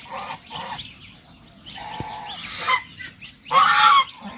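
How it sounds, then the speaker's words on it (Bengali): Domestic geese honk in short, loud, nasal bursts, several calls in irregular succession from close range, with a louder honk near the end. "রাজহাঁস"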